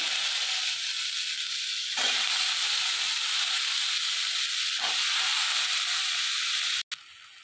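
Cut potatoes slide into hot oil seasoned with turmeric and sizzle loudly in a steady hiss, dropping briefly twice as more go in, then the frying suddenly cuts off.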